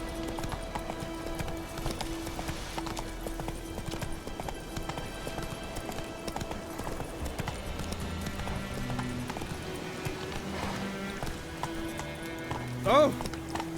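Rhythmic clip-clop of the horse Roach galloping in The Witcher 3, steady hoofbeats over game ambience and music, with a brief sharper sound near the end.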